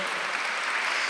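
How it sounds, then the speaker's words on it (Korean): A church congregation breaks into dense, continuous applause, a brief loud burst of many hands clapping together without a break. "박수하세요."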